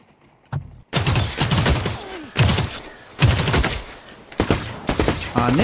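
Bursts of automatic gunfire in The Cycle: Frontier, loud and close, with rapid volleys separated by short pauses and a final burst near the end.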